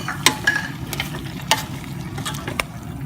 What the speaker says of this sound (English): Just pour all the chicken in and mix it in the curry base, and also add in the potatoes.